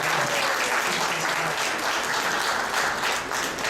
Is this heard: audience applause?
yes